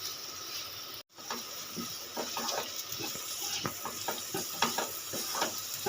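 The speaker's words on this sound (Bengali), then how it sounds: "ভালো করে কষিয়ে নেব এর মধ্যেই দিয়ে দেবো ধনে পাতা কুচি" Spiced potato filling with cumin, garam masala and chopped coriander being stir-fried in a pan, soft steady sizzling with a series of scraping stirs and light clatters, close and moderately quiet after a brief cut near the start.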